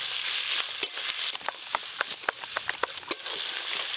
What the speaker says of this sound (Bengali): গোটা গরম মশলা, পেঁয়াজ কুচি, আদা বাটা, থেতলে রাখা রসুন, আদা রসুন পেঁয়াজ একসঙ্গে খুব ভালো করে ভাজবো